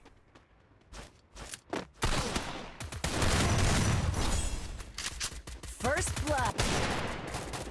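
Free Fire video game gunfire cracks out, first as a few sparse separate shots, then as dense rapid bursts and sustained automatic fire, with a game announcer's voice and a player talking over it.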